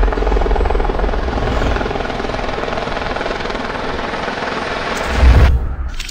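Eurocopter EC 120B Colibri helicopter flying nearby, a steady, loud rotor thump and turbine whine that holds throughout, swelling into a brief heavier low-end burst near the end.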